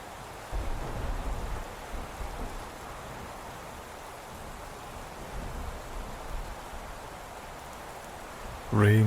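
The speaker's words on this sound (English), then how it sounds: "Rain slashed against her delicate face." Steady storm rain hisses down in a broad, even wash, with faint low rumbles underneath and a brief louder knock at the very end.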